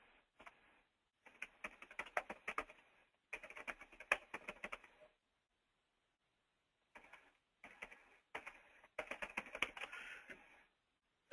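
Fingers typing on a computer keyboard in irregular bursts of rapid key clicks, separated by short pauses, close and fairly quiet with no talking.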